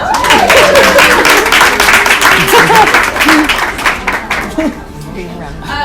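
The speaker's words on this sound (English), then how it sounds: "You guys need to give yourselves a round of applause for how gorgeous you are." A brunch audience gives a round of applause, loud dense clapping with cheers and laughter mixed in, tapering off near the end while voices carry on.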